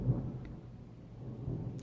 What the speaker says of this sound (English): oh, did you hear that thunder in the background?